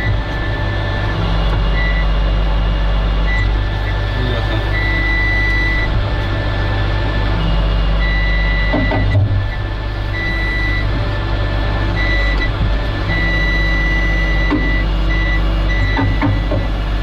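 Rare Hanomag wheel loader tilting its bucket, a loud constant diesel engine drone with repeated reversing beeps and hydraulic whine throughout, close and unbroken.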